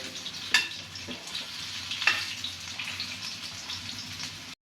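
Fish sizzling in a frying pan as the pieces are turned to the other side, a continuous hiss broken by a couple of sharp clatters from flipping, fairly close.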